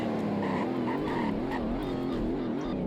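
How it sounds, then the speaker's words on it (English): A 2018 Dodge Challenger Demon slowing hard from around 160 mph, its engine note falling steadily with a rough low rumble and faint tire and wind noise, heard from inside the car with no talk. "we're gonna get a braking test real quick"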